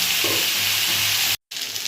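Potatoes and eggplant fry in a pan, giving a loud, continuous close sizzle that cuts out for a brief moment near the end before hissing on again.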